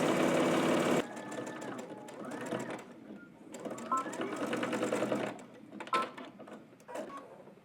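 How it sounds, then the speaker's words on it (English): A sewing machine stitches a jersey fabric seam. An opening burst of loud machine noise gives way to bursts of rapid mechanical whirring and clicking that start and stop, with a voice heard faintly in between. "We're going to stitch all the way across using 5/8 of an inch seam allowance"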